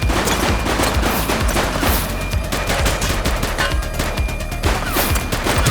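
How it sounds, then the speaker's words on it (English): Sustained bursts of automatic and single-shot gunfire from a police shootout in the video game The Precinct, loud and dense, with rapid overlapping shots continuing without a break throughout. "Shots fired!"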